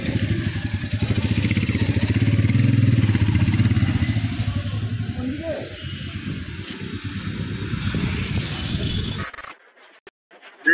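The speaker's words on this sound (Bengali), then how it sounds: "কি আওয়াজ হচ্ছে গিয়ারে, শুনেছো?" Motorcycle running loud and steady on a monsoon ride from Ranchi toward Kolkata, its engine and gear clatter rumbling continuously with wind buffeting, before cutting out abruptly near the end.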